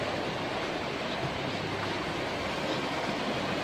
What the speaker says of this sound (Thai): นี่ครับสภาพน้ำไหลหลากครับ